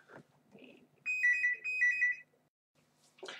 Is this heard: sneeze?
no